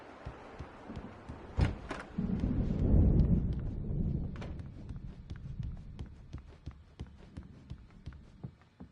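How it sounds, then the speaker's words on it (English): Thunder from an approaching storm in a video game, a deep rumble swelling and fading over a few seconds, with sharp clicks and footsteps scattered before and after it. "The storm is almost here."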